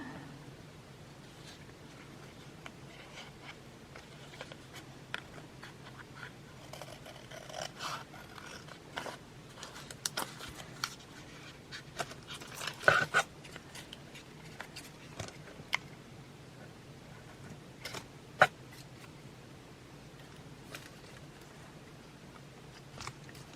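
Scissors cut paper for a handmade journaling tag, faint close snips and crisp crunchy clicks scattered irregularly over a quiet room, with a couple of sharper cuts standing out.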